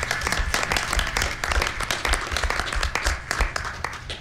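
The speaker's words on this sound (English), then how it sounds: "Can we round of applause for Guy?" An audience at a talk applauds steadily, a dense patter of many hands clapping at close to moderate distance for several seconds.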